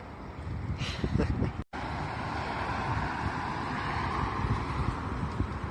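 Strong wind buffeting the microphone, a continuous rough rumble with gusty swells and a brief dropout midway.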